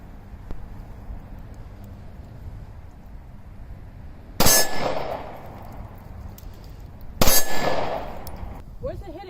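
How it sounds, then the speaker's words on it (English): Two sharp metallic clangs of bullets striking a steel target plate at an outdoor shooting range, spaced about three seconds apart, each ringing briefly over a low background hum. "You're hitting it. No, you're hitting the plate."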